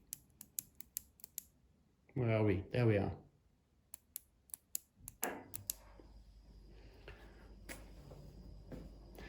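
Olivetti ANK 2463 rubber dome keyboard, an IBM Model F type board, giving a string of sharp, close key clicks spaced irregularly, with a brief spoken interruption and a later stretch of handling noise.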